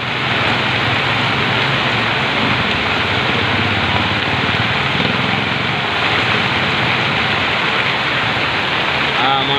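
Heavy rain pours down on a flooded road during a storm, a loud, dense, continuous wash of noise with a low rumble beneath and a voice speaking over it.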